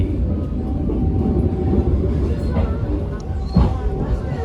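An Indonesian Kahuripan passenger train rumbles past nearby near Blitar, a continuous low heavy roar with rattling wheels and faint background voices.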